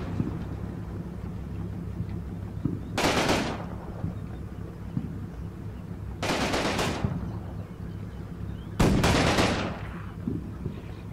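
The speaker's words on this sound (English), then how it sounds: "I'm gonna fire at these infantry positions over there from the other Overwatch position with the heavy machine guns and tanks" Heavy machine guns and tanks fire on infantry positions in the Combat Mission tank battle game, three loud broadband bursts about three seconds apart over a steady low rumble.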